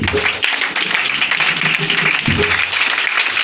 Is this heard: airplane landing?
no